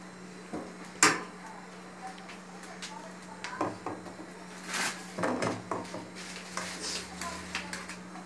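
A can of condensed milk is set down into a metal cooking pan in a kitchen while making a dessert, giving a series of close clanks, knocks and scraping clatters at an uneven pace.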